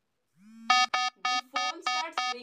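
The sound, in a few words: phone ringing via Dizo Watch R Find My Phone feature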